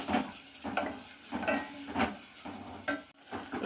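Tempering sizzles in hot oil in a pan while a spoon stirs it, producing rhythmic scraping strokes roughly every half second over a steady frying hiss, close and moderately loud, with no voices.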